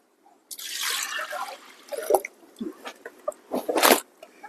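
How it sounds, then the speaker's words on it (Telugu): Water pours onto lentils soaking in a vessel, starting as a steady splashing stream, then breaking into irregular splashes and dribbles, loud and close. "కొద్దిగా నీళ్ళు పోసుకుందాం."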